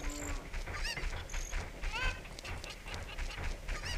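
Cucco chickens in Zelda: Ocarina of Time cluck and squawk in short, honking bursts, with several quick calls over a busy game backdrop and faint room noise.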